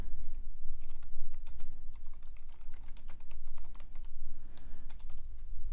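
Steady typing on a computer keyboard, rapid clicky keystrokes in uneven bursts with short pauses, close and clear with no talking.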